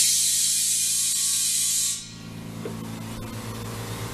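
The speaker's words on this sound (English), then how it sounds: "You hear that little compressor on the other end kicked in." A small Harbor Freight Fortress air compressor kicks in with a low mechanical drone and hum, after a loud hiss of escaping air cuts off.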